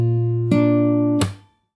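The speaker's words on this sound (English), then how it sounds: "And then you play a muted slap." A fingerstyle guitar chord from a song rings out, then a sharp percussive muted slap on the strings cuts it off, leaving a short fading tail and then silence.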